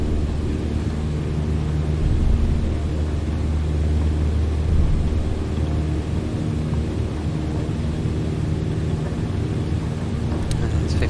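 A light aircraft in Microsoft Flight Simulator rolls down the runway for takeoff at takeoff power, its engine a steady low drone that carries through the whole stretch while someone talks over it.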